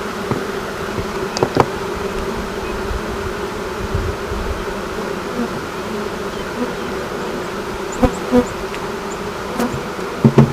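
A relocated honeybee swarm buzzing around an opened hive during beekeeping: a steady, dense drone of many bees close by, with a few sharp knocks from the hive near the end.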